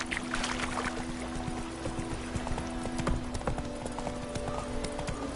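Horse hooves clip-clop in a steady galloping rhythm in The Witcher 3 video game, close and continuous, with faint creaks and ambient noise around them.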